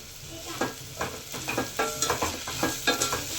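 Ginger garlic paste fries in oil in a pan for a dal pulao, with a sizzling hiss and a rhythmic series of utensil scrapes and stirs about twice a second, close and moderately loud.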